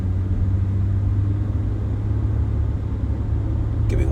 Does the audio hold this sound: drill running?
no